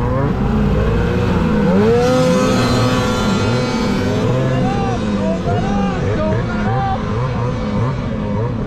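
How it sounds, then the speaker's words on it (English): A 2004 Ski-Doo Rev snowmobile engine at a hillcross event, over-revving loudly and steadily with a high whining rise and wavering pitch. Nearby voices and crowd babble run underneath it. "Now that thing's over revving."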